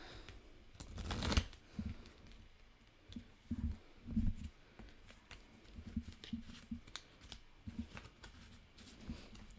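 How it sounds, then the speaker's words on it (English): Playing cards are shuffled by hand at close range, producing a few bursts of quick riffling and soft clicking, with no talking. "I'm going to shuffle my cards real quick"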